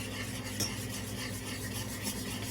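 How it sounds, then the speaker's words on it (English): Glaze sauce for smoked wild turkey breast simmering in a pan on medium heat, a quiet, steady bubbling hiss with faint, soft stirring scrapes, close by and without voices. "Now we just want to let this simmer, let all the flavors come together."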